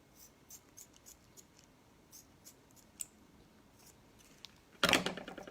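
Scissors cutting the end off a balloon: a few faint, small clicks and rustles, then one sharp, loud snip near the end, close by with no talking.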